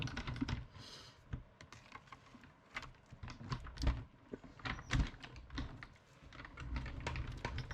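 An embossing folder holding a flower image, cranked through a manual die-cutting and embossing machine for a blackout-technique card, makes a steady run of close, dense clicking and ratcheting clatter with a few louder knocks, no voices.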